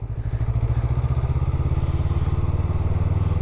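A Honda Rebel 500 motorcycle chugs along close and loud, its engine giving a steady, rapid low thumping pulse that holds even throughout with no talking.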